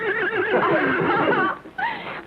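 A blonde horse whinnies loudly and close by in a 1948 western, one long quavering neigh followed by a short, softer second call after a brief pause.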